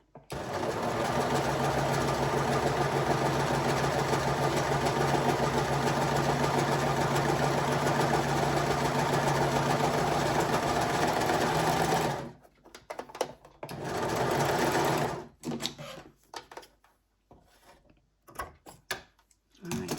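An overlocker serger sewing machine runs in a steady, loud mechanical whir for about twelve seconds, then cuts off into short, uneven bursts of stitching with brief pauses between them.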